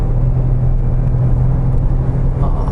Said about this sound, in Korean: 해당 모델의 추월 가속력을 조금 경험해 보면 약 100km대에서